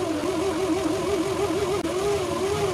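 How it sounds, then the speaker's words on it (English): Spin bike flywheel pressed against a generator motor under added weight, used as a battery charger: a steady mid-pitched whirring hum with a gently wavering tone from the pedalling, continuous and close. "When I put this wheel on, it should make more power because of the added weight on the motor pushing it against the flywheel."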